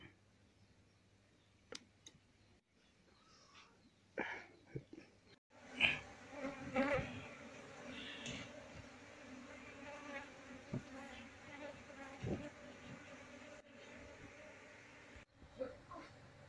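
A honey bee colony hums with a soft, steady buzz while it is being moved out of an active speaker box into a breeding box. Occasional clicks and handling bumps sound close by.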